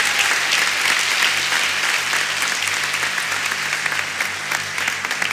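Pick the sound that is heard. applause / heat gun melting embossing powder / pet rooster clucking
applause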